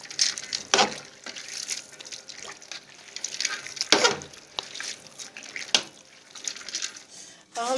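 Tap water running over cooked spaghetti in a colander in a home kitchen, a steady close hiss of flowing water broken by a few louder splashes.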